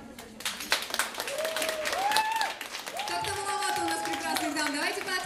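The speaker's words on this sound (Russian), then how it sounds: "Поаплодируйте прекрасные дамы" An audience at a charity concert claps in a burst of loud, rapid applause, and the clapping carries on beneath a speaker's amplified voice as he talks over it.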